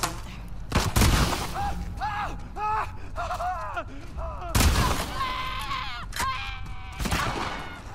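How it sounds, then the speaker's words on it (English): Gunfire in The Last of Us Part II during a high-rise fight: several loud sharp bursts standing out from the noise, mixed with short vocal strains, grunts and gasps from characters between shots. "I'm being shot at too."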